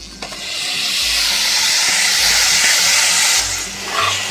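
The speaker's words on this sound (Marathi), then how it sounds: "हे असं चांगले परतून घ्यायचं आता यामध्ये खिसलेला मुळा टाकूया" Grated radish sizzles as it is sautéed in a hot pan with turmeric and asafoetida, a loud, steady, close hiss that swells, holds for about three seconds, then drops away with light stirring.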